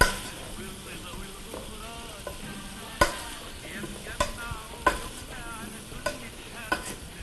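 Onions, leeks and potatoes frying and caramelizing in a pot for potato soup give a soft, steady sizzle, with occasional sharp clinks and scrapes of stirring close by.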